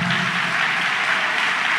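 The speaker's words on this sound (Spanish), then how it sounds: "Vamos a darle palmas al Rey" Congregation clapping during a church service, loud, dense and continuous, a bright wash of many hands at close range.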